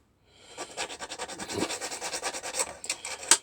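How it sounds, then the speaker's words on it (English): A needle file roughening the underside of a small model railway part, rapid rhythmic rasping strokes, close and fairly quiet, ending in a sharper scrape. "I'm just going to use one of the needle files that I mentioned last video"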